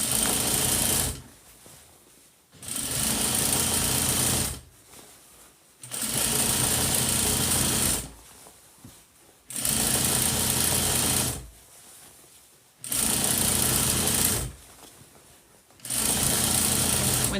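A sewing machine stitching around a belt loop on a Halloween bag runs in five loud, close bursts of rapid mechanical whirring, each lasting a couple of seconds and separated by short pauses.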